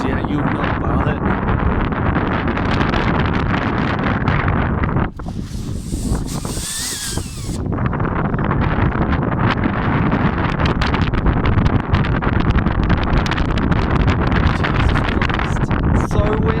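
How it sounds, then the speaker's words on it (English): Strong, gusty wind roars loudly across an outdoor microphone, buffeting it almost continuously with a brief lull midway, while someone talks over it. "so windy."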